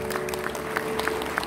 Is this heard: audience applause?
yes